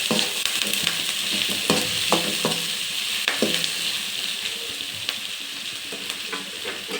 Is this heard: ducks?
no